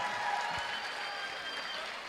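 Concert audience at a live show in Montreal clapping in a steady, dense wash of applause, with crowd murmur underneath throughout.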